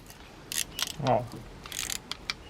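A piston ring installer tool fitting rings onto a Hyundai piston gives soft, close mechanical clicks and metallic ratcheting in short separate bursts, with a brief low scrape in the middle and quiet background.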